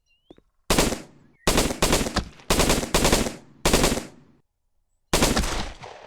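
Automatic gunfire from the survival MMO game Xera comes in five loud, close bursts of rapid shots separated by short silences, with no talk over them.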